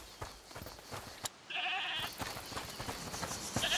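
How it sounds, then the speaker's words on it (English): A goat bleats in A Plague Tale: Requiem, a single wavering cry lasting about half a second amid faint scattered clicks and ambient game sound. "Is that the goat you talked about?"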